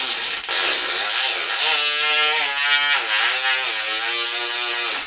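A rotary tool whines at steady high speed, its pitch wavering slightly as it polishes smooth silver with an ultra fine grit abrasive, loud and close with no talking.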